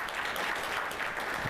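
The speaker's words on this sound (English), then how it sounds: "So I'd like to give him a round of applause." Audience applause for Dr. Michael Stallman at a STEM education meeting, a faint steady patter of clapping heard from a distance.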